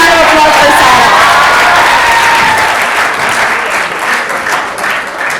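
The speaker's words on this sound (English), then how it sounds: "Can we have a big round of applause for Sarah?" An audience bursts into loud, close applause with scattered cheers and whoops, the clapping strongest at the start and slowly thinning and fading toward the end.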